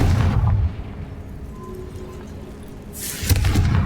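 A Confringo fire spell blasts a treasure chest in Hogwarts Legacy, a deep booming burst at the start and another heavy boom near the end with a quieter rumbling lull between.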